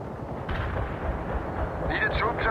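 Heavy airstrike blasts in the World in Conflict real-time strategy game, a deep rumbling detonation opening into rolling booms and crackling debris that build toward the end, loud and close.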